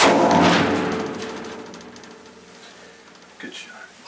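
A single rifle shot from a deer or oryx hunt in South Texas cracks loudly at the start, then a long rumbling echo fades away as people begin talking.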